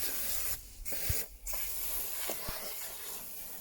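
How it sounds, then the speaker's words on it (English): A spray bottle of cleaner hisses onto a car seat in a near-continuous stream with a couple of brief pauses and small clicks of the trigger, close and fairly quiet. "just spray it on the seat."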